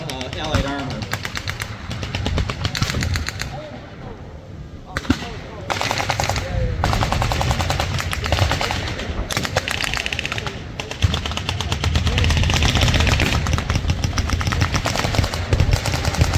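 Sustained blank machine gun fire at a WW2 battle reenactment at Midway Village, long rattling bursts mixed with scattered shots outdoors at a fair distance, while someone narrates over it.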